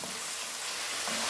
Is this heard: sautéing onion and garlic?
yes